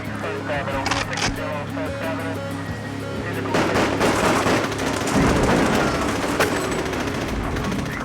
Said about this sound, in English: I was just overwhelmed with automatic gunfire.